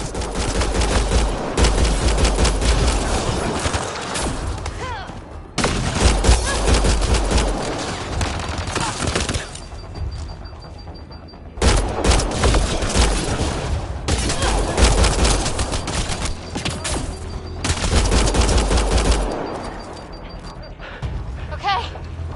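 Gunfire in the game Mass Effect: Andromeda: loud, rapid bursts of automatic fire in several long volleys separated by short lulls, with heavy low thuds and voices calling out in places.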